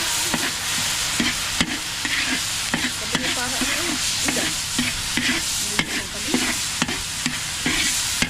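Ingredients for arroz caldo sizzle in hot oil in a pan while being stirred, with steady frying hiss and repeated sharp utensil scrapes and taps against the pan, close up and without talk.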